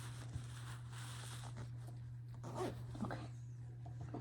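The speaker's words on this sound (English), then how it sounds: "Let me move the zipper" A zipper drawn along a quilted fabric iPad holder during sewing, a few soft rasping pulls close by over a steady low hum.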